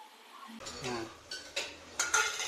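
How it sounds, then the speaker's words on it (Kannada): A spoon stirs and scrapes masala ingredients around a bowl for garlic kebabs, soft clinks and scrapes in a few short strokes, quiet and close, with faint voices in the background. "ಈ ಮಸಾಲೆ. ಇಂಗ್ರೀಡಿಯೆಂಟ್ ಎಲ್ಲ ಹಾಕೊಂಡು ಮಿಕ್ಸ್ ಮಾಡ್ಕೊಂಡು"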